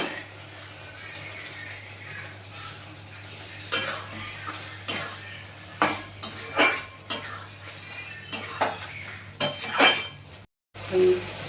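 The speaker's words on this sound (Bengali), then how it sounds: "ভালো করে আবার আমি কষিয়ে নিচ্ছি ভেজে রাখা পটল" Fried pointed gourd (potol) being stirred in a pan, with repeated scraping and clinking of a utensil against metal in irregular bursts over a low steady hum, close and moderately loud.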